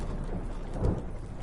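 Thunder rumbles over steady rain during a storm at sea in the video game The Witcher 3, with a continuous wash of rainfall and a low rolling swell in the middle.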